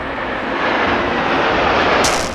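Military airplanes roar overhead in a loud, steady wash of engine noise that swells slightly and holds throughout, with no voices.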